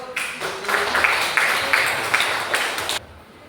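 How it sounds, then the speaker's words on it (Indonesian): Classroom applause from a group of seventh-grade students, a steady dense patter of clapping that holds for about three seconds and then stops abruptly, fairly close and moderately loud. "Tepuk tangan untuk"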